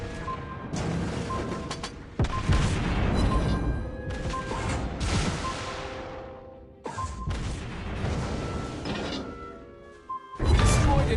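A warship taking shell hits in the naval battle game World of Warships Blitz, with loud booming impacts, crashes and metallic shattering bursts that roll on in overlapping waves, then a final sharp blast at the end.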